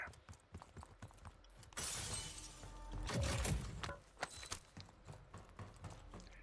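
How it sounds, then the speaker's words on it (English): A sudden crash of shattering glass breaks out amid game sounds, followed by scattered clinks and rattles of debris. "we used to not worry too much about breaking glass and stuff"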